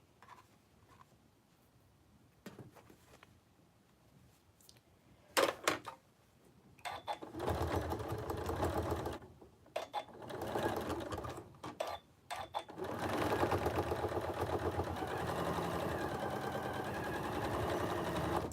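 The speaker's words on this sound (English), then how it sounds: "you are sewing through so many layers of fabric" A sewing machine stitches through many layers of fabric on a homemade surgical face mask, running in several short close-up bursts and then a longer steady run, with pauses of near silence between them.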